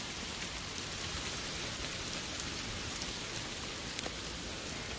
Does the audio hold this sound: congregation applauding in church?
no